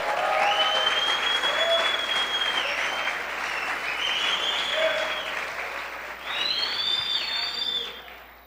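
A church congregation claps during a sermon in unbroken, fairly loud applause, while voices and tonal sounds rise and fall over the clapping.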